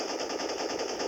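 Rapid gunfire from the Respawnables video game, credited to a shotgun, comes as a dense, continuous burst of loud shots close up with no pause between them.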